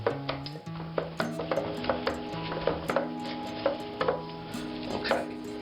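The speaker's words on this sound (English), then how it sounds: "Hit it with the pastry blender." Repeated chunky cutting and scraping strokes of a pastry blender working cold dough in a bowl, a steady rhythm of soft thuds with faint metallic clinks, close by.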